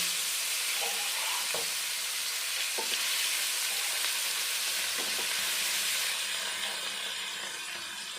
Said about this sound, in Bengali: তেলে আমি বাকি মাছগুলো ভেজে নেব